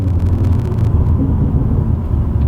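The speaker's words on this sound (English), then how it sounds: "you do get a couple of burbles on downshifts in comfort as well" A BMW M140i fitted with an M Performance exhaust rumbles low and loud on downshift overrun, with a brief burst of crackling pops early on over a deep, steady drone.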